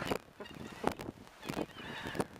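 Guinea fowl call in harsh, repeated honking squawks, several loud bursts coming in an irregular rhythm outdoors, with no talking.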